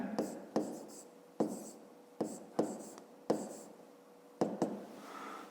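A pen or pencil moves across paper during a fifth-grade geometry lesson, with repeated short scratching strokes and taps at an uneven rhythm, close and fairly quiet.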